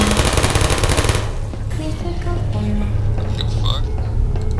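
Rapid machine-gun bursts from turrets in a Portal live-fire test chamber open loud, then give way to quieter mechanical clicks and whirs, with a faint voice under the noise.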